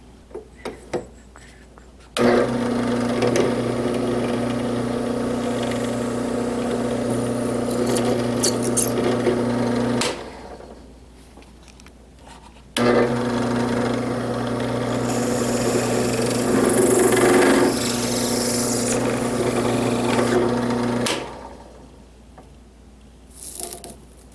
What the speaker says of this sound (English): I would definitely recommend drilling like a small pilot hole in the near center.